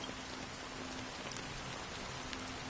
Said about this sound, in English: Amongst the fine drizzle of the black rain